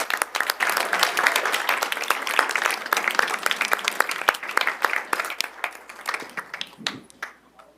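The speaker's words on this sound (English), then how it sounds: "Let's give them all another round of applause." An audience at a board of directors meeting gives a dense round of steady applause that tapers off into a few scattered claps near the end.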